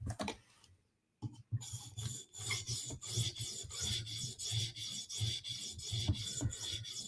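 Repeated strokes of a knife drawn across a 400 grit sharpening stone to remove the burr, a steady rhythmic rasping that runs close and continuous after a brief pause near the start.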